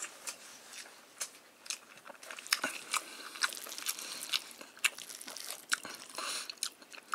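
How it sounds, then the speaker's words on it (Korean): Someone eats a convenience store gochujang bulgogi bibimbap with mixed vegetables and egg, producing close, repeated crunchy bites and wet chewing in an irregular rhythm, with no talk. "자, 이렇게 비벼서 먹어보도록 하겠습니다."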